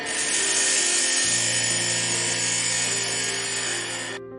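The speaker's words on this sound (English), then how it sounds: "The knife grinder polished and sharpened the knife." A knife grinder sharpening and polishing a knife, a loud continuous rasping grind with a steady hum underneath that cuts off abruptly near the end.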